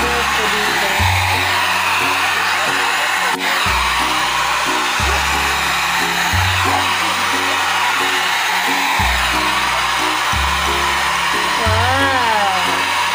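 An Avon foldable hair dryer with concentrator nozzle blows loudly and continuously while straightening hair, its whine wavering as the airflow is moved around, with low thumping handling noises underneath.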